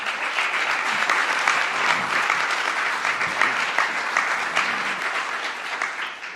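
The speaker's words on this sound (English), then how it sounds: "a round of applause." Steady applause from an audience at a mayoral press event on affordable housing, a dense continuous patter of many hands clapping, fairly loud and sustained throughout with no pauses.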